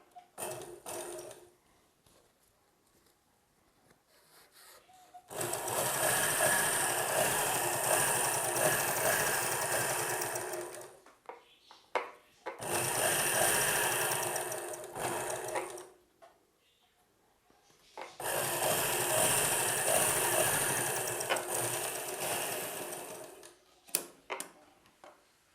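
A sewing machine stitches the lining of a silk saree blouse, running in three long sustained bursts of several seconds each, separated by quiet pauses with small handling noises.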